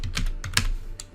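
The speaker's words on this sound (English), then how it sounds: "Next, type your first and last name." A name is typed on a computer keyboard in a short burst of four or five crisp, close keystrokes with uneven spacing, heard alone in a quiet room.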